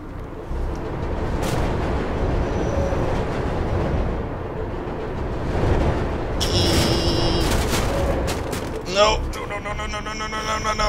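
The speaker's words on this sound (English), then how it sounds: "Freaking trains." Train rushing past in the video game Mirror's Edge, a steady loud rumble filling the scene with metallic clatter and bursts near the end, heard under game effects.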